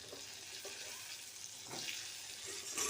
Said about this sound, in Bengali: আলুগুলো পটলের সঙ্গে ভালো করে ভেজে নেব।